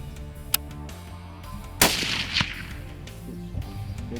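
A single loud rifle shot cracks sharply during a deer hunt and trails off in a rumbling echo, with a few quieter clicks and knocks around it.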